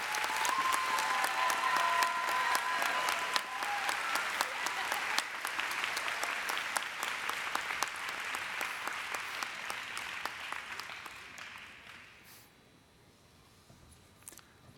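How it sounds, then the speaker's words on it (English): A graduation audience at The College of New Jersey's Elementary and Early Childhood department ceremony claps for a graduate, steady applause that fades out toward the end, leaving near silence. "A round of applause, please."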